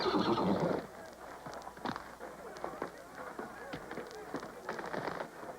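Windfire, a gentle rodeo horse, lets out a loud whinny, followed by softer snorts and scattered hoof clops at close range.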